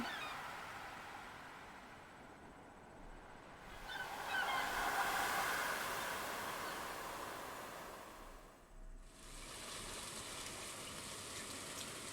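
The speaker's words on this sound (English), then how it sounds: "I love the ocean when it's raining." Steady rain hiss mixed with ocean surf washes through a seaside scene in Stardew Valley, broad and continuous at moderate level, swelling midway and briefly dipping before resuming, with no talk over it.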